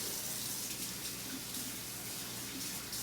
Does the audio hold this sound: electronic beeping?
no